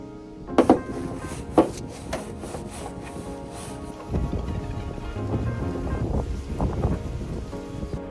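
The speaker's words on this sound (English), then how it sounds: "Before I could seal up the solar panels, they desperately needed a good cleaning too, so I scrubbed these for a very long time." A brush scrubs dirty solar panels on a Sprinter van camper, producing a faint, continuous rubbing and scraping noise with a few sharper knocks early on.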